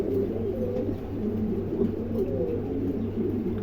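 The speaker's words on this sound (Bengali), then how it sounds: "একদম কালা মিসমিসা কবুতর আছে দেখেন দুটো কবুতরই খুবই সুন্দর" Two adult pigeons, one jet black, coo softly at close range in repeated low rolling phrases over a steady hum, with no one speaking.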